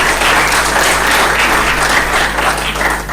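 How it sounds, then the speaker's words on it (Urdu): Dense, steady applause from an audience fills the whole stretch, rewarding a performance by children; the clapping stays loud and even throughout with no voices over it. "ان کے لیے ایک بھرپور تالی میرے اکاؤنٹ سے آپ کو دیں"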